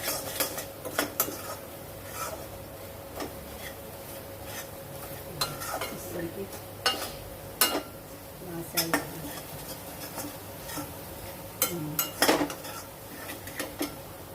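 Kashmiri chilli and black masala stir-fried in a pan for a vaghata vegetable dish: repeated sharp clinks and scrapes of a metal spoon against the pan over a faint sizzle, with quiet background voices.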